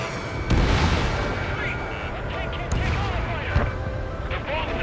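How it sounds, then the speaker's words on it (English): Heavy bombing explosions and booming blasts in the combat flight video game Ace Combat 7, with rumbling impacts and sharp bursts layered over continuous engine and battle noise, loud and close. "They're bombing us."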